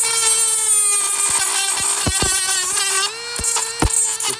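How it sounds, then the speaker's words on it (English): A small Dremel rotary tool whines at a steady high pitch while cutting the top off a 3/16 brake line fitting on a Ford Ranger, with clicks and brief pauses near the end; close and loud. "And I'll just take my little Dremel tool and cut off the top, nice and flush."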